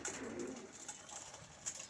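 Pigeon cooing at a pigeon show, soft low coos close by under a steady airy background hiss, with a faint flutter near the end.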